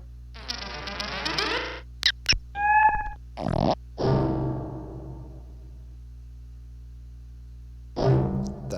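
Self-made glitch sound effects from a sample kit play one after another: buzzy digital bursts, short clicks, a pulsing tone and a stuttering blip, separated by silent gaps.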